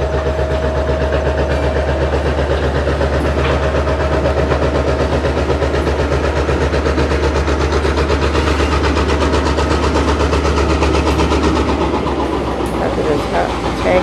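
A heavy GEXR locomotive engine doing yard work rumbles steadily close by with a deep droning hum as it passes, loud and continuous throughout.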